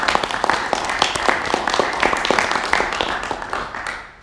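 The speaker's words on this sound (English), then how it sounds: "Let's give him a round of applause." An audience at a student Toastmasters meeting breaks into applause, a dense burst of many hands clapping that holds steady for about four seconds before tapering off at the end.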